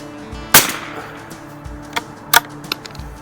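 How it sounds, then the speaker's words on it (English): A Mauser ES340N .22 rimfire bolt-action rifle fires at a range target 25 yards out, with two sharp, fairly close cracks separated by smaller metallic clicks and knocks from handling the action. "So I'm just shooting at a target out here at 25 yards."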